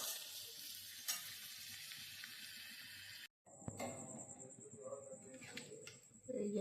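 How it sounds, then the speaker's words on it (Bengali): Potatoes fry with onion and tomato in a pan during oats khichuri cooking, a soft steady sizzle that cuts out briefly, then resumes with a bird cooing and faint clatter in the background. "আলুগুলো দিয়ে ভেজে নেব"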